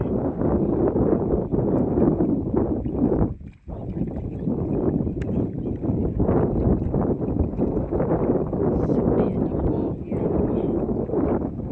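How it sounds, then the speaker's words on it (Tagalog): Steady wind over a rice field buffets the microphone in a constant roaring rush that dips briefly once before returning at full strength. "Mahangin na sa palayan"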